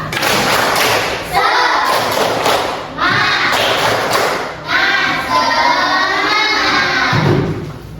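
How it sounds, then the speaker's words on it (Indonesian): A classroom of children performs a rhythmic group chant-clap, loud bursts of clapping and thumping in a steady pattern with voices chanting along throughout. "kita tepuk semangat dulu"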